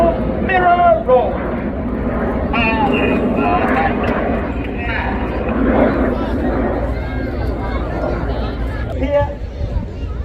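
Red Arrows display jets performing a mirror roll at the Blackpool Airshow, with a steady, loud jet roar running throughout, overlaid by crowd babble and commentary.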